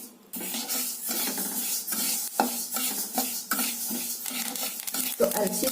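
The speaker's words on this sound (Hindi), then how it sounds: "तो अलसी से आवाज आने लगा है चटर पटर का" Flaxseeds dry-roasting in a pan over a low flame, crackling and popping steadily under scraping stirring strokes, close and continuous.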